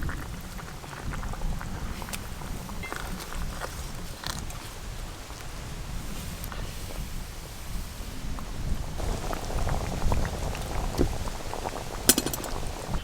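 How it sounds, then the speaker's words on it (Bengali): Broth with small river fish bubbling at a vigorous rolling boil in a pot, a steady close churning and gurgling with soft pops throughout, slightly busier toward the end. "জল, ঝোল তো বেশ ভালো করে টকবকে করে ফুটে গেল"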